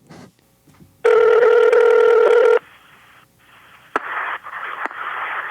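A telephone call to a business, heard as a loud ringing tone of about a second and a half, followed by quieter line noise and a few clicks with no voices.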